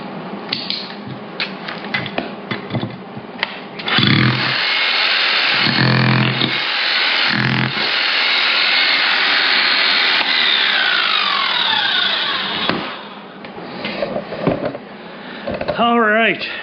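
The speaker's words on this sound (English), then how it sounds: "Let's see if we could drill still into this guy." A Milwaukee cordless power drill whines in long sustained bursts into steel, loud and close, with pauses between runs and someone talking at the start and near the end.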